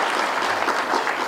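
An audience at a public lecture applauds steadily, dense clapping filling the moment without a break.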